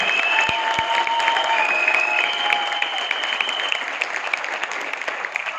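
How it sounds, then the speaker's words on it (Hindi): A seminar audience at a program in Chandigarh breaks into loud, steady applause, a dense wash of clapping that holds strong throughout and eases only slightly near the end, with faint tones heard beneath it. "एक बार जोरदार तालियां, जबरदस्त तालियां प्लीज"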